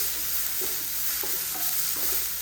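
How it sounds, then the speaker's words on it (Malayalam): Curry with chili powder and salt being stirred in a hot pan, a continuous close sizzle broken by several rhythmic scraping strokes of a spoon against the pan. "മുളക് പൊടി ഇട്ട് നമുക്ക് ഇളക്കാം"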